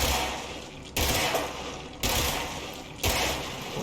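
Sustained automatic gunfire blasting mold in the video game Control, three dense bursts of shooting with brief gaps between them, loud and continuous with no voices.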